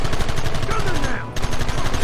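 Rapid, continuous gunfire from a Western shootout in Red Dead Redemption, dense crackling shots rattling in quick succession, loud and close, with a voice speaking briefly over the firing.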